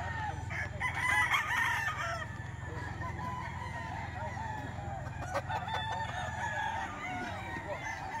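Chickens crowing and clucking, a rooster's call rising over a dense, noisy background that stays busy throughout.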